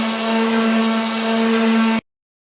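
A power sander fine-sands cabinet shelves with 220 grit, giving a steady, close whirring hum with a strong tonal whine that stops abruptly after two seconds.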